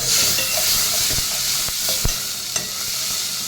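Mustard seeds and spices sizzle in hot oil for tempering dal, a steady crackling hiss with turmeric added, a few sharp clinks of a spoon against the pan breaking through the frying.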